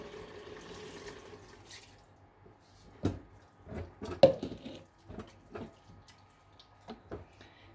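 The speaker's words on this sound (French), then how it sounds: "Une fois ma viande bien mijotée, je peux rajouter mon bouillon." Broth poured into a pot of simmering meat, heard as faint liquid splashing and sizzling bubbles, with quiet clinks of cookware.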